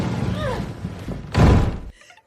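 A heavy object shoved against a door in a house gives a single loud, dull thud, preceded by hurried breathing and faint voices, then quiet.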